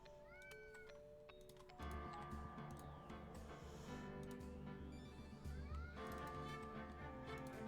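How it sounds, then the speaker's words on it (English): A cat meows repeatedly nearby, with drawn-out, wavering cries over faint background noise. "I can literally hear the cat meowing in the background"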